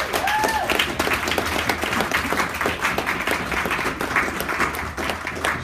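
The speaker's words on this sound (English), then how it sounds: "Supposed to clap at the end, you know." Audience at a Homeless Not Hopeless community event claps steadily and loudly throughout, dense overlapping hand claps with a few faint voices mixed in.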